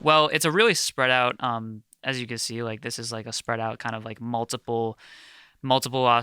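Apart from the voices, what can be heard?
None of the usual background noises is heard.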